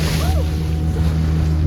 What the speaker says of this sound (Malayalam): നമ്മളൊരു വലിയൊരു സ്പീഡ് ബോട്ട് ഇതുവഴി അങ്ങ് പോയി.